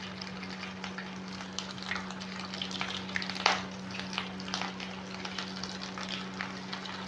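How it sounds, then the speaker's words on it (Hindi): Gola kebabs frying in hot oil in a pan, a steady soft sizzle and crackle with small pops throughout and one sharper spatter midway, fairly quiet and close with a low constant hum beneath. "मुझे कबाबों को दोनों तरफ से फ्राई करते हुए 7 से 8 मिनट हो गए हैं"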